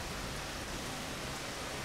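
Steady rain pouring down in the video game Rain World Downpour, a constant dense hiss that holds at the same level throughout with no other sounds standing out.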